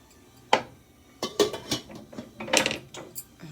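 A metal lid set on a pot of meatballs in a home kitchen: a sharp clank, then several clattering knocks and scrapes of metal on metal as it settles.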